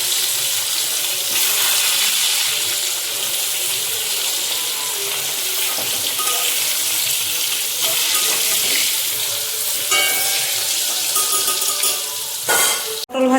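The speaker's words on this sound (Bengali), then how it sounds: "এই এখন উচ্ছে ভাজবো" Bitter gourd slices fry in a home kitchen pan, giving a steady, loud hiss and crackle of hot oil that runs throughout, with a few sharper clinks near the end.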